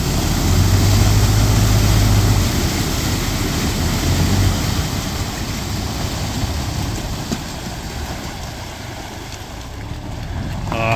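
A Sherp amphibious vehicle towing a trailer drives out into a lake, its engine holding a steady, loud drone over water wash and wind buffeting the microphone, easing slightly as it moves off.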